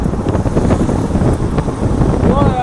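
Strong wind buffets the microphone in snowy mountain weather around freezing, a constant loud rumbling roar with gusts running through the whole stretch.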